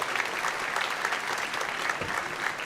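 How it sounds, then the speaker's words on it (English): Concert audience clapping for student performers at a school spring concert, a brief, even burst of crowded applause heard alone. "Let's have a round of applause for those students."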